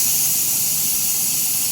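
Rice tipped into hot ghee in a kadai while cooking mutton biryani, giving a steady, loud hissing sizzle that holds evenly with no break and no voices.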